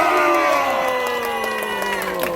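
A crowd at an outdoor protest rally in front of Gwacheon police station breaks into sustained cheering and applause, a dense mass of voices holding steady at a fairly loud level with the roar fading slightly.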